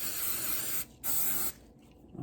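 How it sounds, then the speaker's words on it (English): Two bursts of rain and stain repellent aerosol spray hiss close by, a longer one then a second after a brief pause, trailing into quiet. "I think I'm going to spray just a tad bit."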